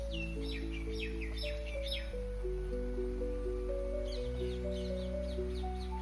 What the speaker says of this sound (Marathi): संध्याकाळची वेळ आणि पक्षी किती किलबिलट करते